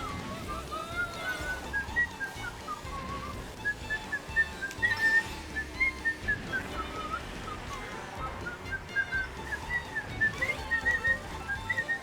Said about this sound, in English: Whistling that tune gets a bit tiring now